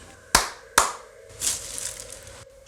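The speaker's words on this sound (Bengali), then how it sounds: "তারপর বাদশাহ আবার দুবার হাততালি দিলেন।" Two sharp, close hand claps ring out in quick succession in an audio story, followed by a softer rustling swell and faint background ambience.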